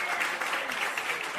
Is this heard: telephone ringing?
no